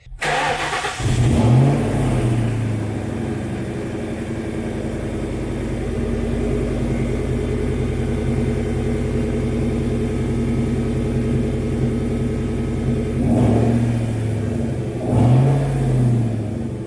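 A 2020 Drift Cobra car cranks briefly and fires up, then settles into a loud, steady engine run close by, rising in a couple of revs near the end, with no talk.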